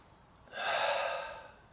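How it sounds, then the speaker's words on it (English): A single deep breath in a breathwork exercise, one breathy rush of air swelling up and fading out over about a second, close and fairly loud with no talk. "Try and breathe all the way through your lungs, and then let it go."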